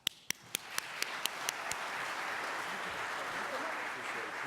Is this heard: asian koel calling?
no